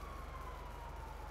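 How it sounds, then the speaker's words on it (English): Emergency vehicle siren wailing steadily at a distance on a city street, a thin continuous tone under a low steady hum with no talking. "These sirens, they don't fucking stop today."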